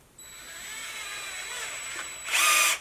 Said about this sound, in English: So play around with the cordless drill so that you can load it easily.